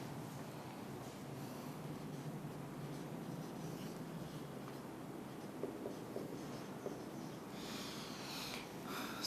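A pen scratches steadily over paper as an algorithm is written out by hand in a school computer class. The scratching runs continuously at moderate volume with no talking.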